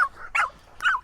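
A dog gives two quick, close, high-pitched yipping barks in quick succession, with nobody talking over them.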